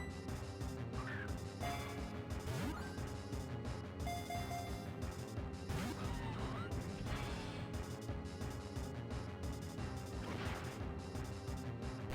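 Lava Plume attack effect from the Pokemon Platinum video game, a burst of crashing, smashing game sound over continuous battle music, loud and dense throughout without speech.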